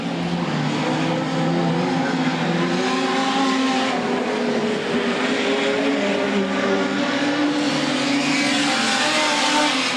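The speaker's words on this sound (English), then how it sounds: "working the car very hard as he goes down the back straight" A production sedan race car is driven hard down the back straight, its engine note loud and steady, holding high revs with slight pitch shifts as it passes, and a faint commentary voice underneath.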